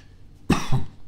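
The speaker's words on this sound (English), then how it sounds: "I don't know what I'll blame for all the coughing" Two quick, close coughs from an adult man, a sharp burst followed by a second smaller hack, heard alone against a quiet indoor background.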